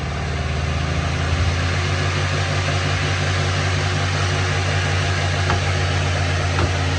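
A Caframo fan fitted with a replacement motor runs at high speed, giving a loud, steady whirring hum with a low tonal drone that holds constant throughout, with no voices.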